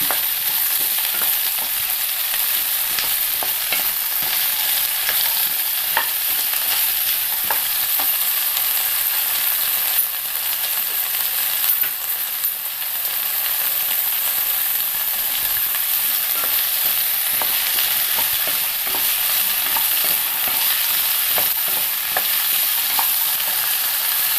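Mixed vegetables with beetroot being stirred in a pan for a mixed vegetable mezhukkupuratti, a steady hiss of frying with scraping and stirring clatter throughout, close and continuous with no talk.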